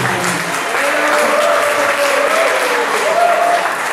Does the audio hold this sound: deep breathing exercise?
no